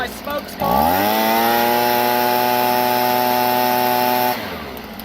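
STIHL BG 55 two-stroke leaf blower revving up after a carburetor cleaning, a loud, smooth, steady high-pitched engine whine held for several seconds, then dropping back off.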